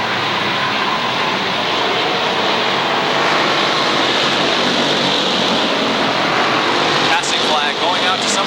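Late model race cars racing at Waterford Speedbowl: a dense, continuous engine roar from the pack that swells and fades slightly as cars pass, loud and unbroken across the whole stretch.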